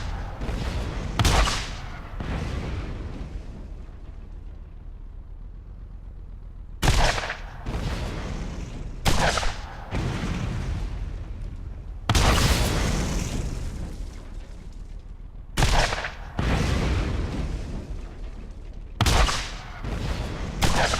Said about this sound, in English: Blow up the barrels for no reason, no, just because I felt like it.